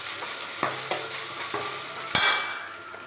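Sliced onion frying in hot oil in a pan, a steady sizzle broken by several sharp scrapes and clinks of a spoon stirring, close and loud with no voices.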